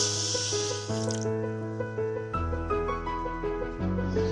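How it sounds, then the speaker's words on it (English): Water pours into a pan for making sugar syrup for bread jamun, a soft splashing fill heard under steady background music. "Add half cup of water."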